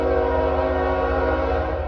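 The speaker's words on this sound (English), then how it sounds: "Oh my gosh, this horn is so loud. I know it's a freight train" Freight train horn blaring loud and steady at close range, a sustained multi-tone blast with low rumble beneath, heard alone without talk.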